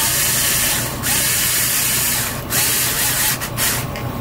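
An electric drill drives screws into PLA aero kit parts on a Slash 4x4 RC truck, sounding as a loud close whir in sustained bursts with short pauses and quick stops, with no talk.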